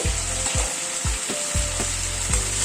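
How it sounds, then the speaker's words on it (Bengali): Chicken frying in spices in a pan for a thin curry, a loud continuous sizzle broken by repeated low scraping stirs at a steady rhythm, with no voices. "চিকেনটা আরেকটু কষানো হবে।"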